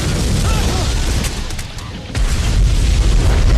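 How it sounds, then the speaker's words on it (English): A loud explosion from the film The Island of Dr. Moreau rolls out as a dense, sustained rumble with a brief dip in the middle before surging again. "Another explosion."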